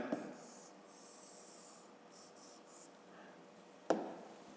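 Chalk or marker strokes scrape across a classroom board during a fifth-grade maths lesson, soft rubbing sounds in a quiet room, with a sharp tap near the end as the writing stops.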